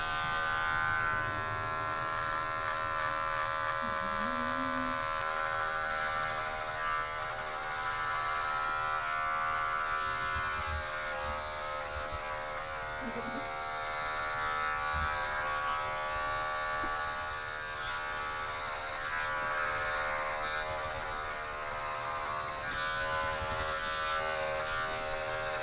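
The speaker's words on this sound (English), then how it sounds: "now I'm gonna take my clipper and I'm gonna put it on 0" An electric hair clipper set to 0 with the guard fully closed buzzes steadily and continuously as it cuts hair close up, a constant motor drone with slight shifts in pitch and load throughout.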